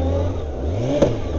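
A motorcycle engine, cold and stuck in false neutral, revving close up in a short burst, pitch rising and falling with a sharp blip near the end.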